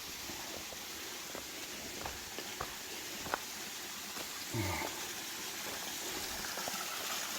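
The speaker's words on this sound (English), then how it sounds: "Nice waterfall coming down all the way up there." A steady, distant rush of a waterfall on the Appalachian Trail fills the background, with scattered faint clicks and a brief low rumble midway.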